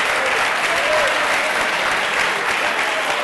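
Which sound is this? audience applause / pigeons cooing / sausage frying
audience applause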